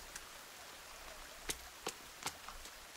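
Rain falling in a forest, a soft steady patter with a few sharper drops striking nearby surfaces, faint and without voices.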